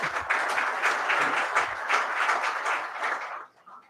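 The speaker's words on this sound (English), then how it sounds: "So big round of applause" An audience at an inaugural function claps steadily with dense, even applause from many people, then tapers off and stops near the end.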